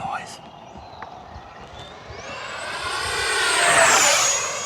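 A 70mm FMS Yak-130 model jet whines past, its pitch sweeping upward as it nears and grows louder toward the end, with a breezy outdoor hiss underneath.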